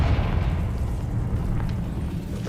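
A Confringo blasting spell cast in Hogwarts Legacy, heard as a sustained low rumbling boom that stays loud and dense through its length, with no one talking over it.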